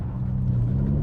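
A V8 sports car engine with a 7-speed shiftable automatic gives a brief, deep, steady rumble, close and loud with no voices.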